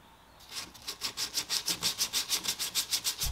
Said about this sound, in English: When you start sanding Bondo, you want to mask up.